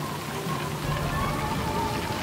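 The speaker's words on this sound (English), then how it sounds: "it'll probably just be a light drizzle." Cartoon rain sound effect: a steady, dense patter of rain falling, broad and hissing, continuous throughout with no voices.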